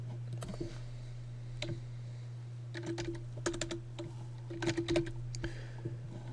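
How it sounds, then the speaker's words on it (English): Keys clatter on a computer keyboard in quick, uneven bursts, with a louder flurry near the end, close and clear over a steady low hum, no talking. "type enter, hello Chris"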